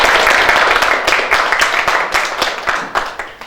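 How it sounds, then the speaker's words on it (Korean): Audience applause at a youth education forum in Gapyeong, a burst of many hands clapping loudly and steadily for a few seconds, then tapering slightly, with no talk over it. "우리 소장님께도 한번 박수 한번 보내드릴까요?"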